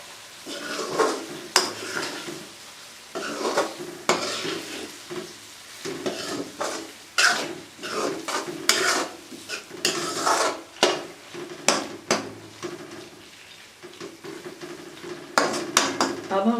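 Stuffed brinjal fry with red chilli being mixed in a pan, a spatula knocking and scraping against metal in irregular clanks over a low background sizzle, close and fairly loud.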